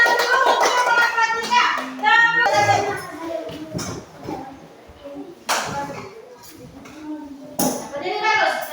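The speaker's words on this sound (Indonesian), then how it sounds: "tepuk tangan dulu untuk kelompok" A group of children claps for a classmate group at school, bursts of hand clapping mixed with lively children's voices and chatter throughout.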